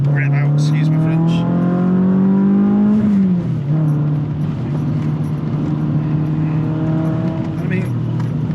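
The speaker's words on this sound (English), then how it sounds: "So I'll go down to second again now and give it a good fucking rev out" Renault Clio Trophy engine revved hard in second gear, a loud steady drone that climbs in pitch, drops, then holds, heard from inside the car under some faint voice.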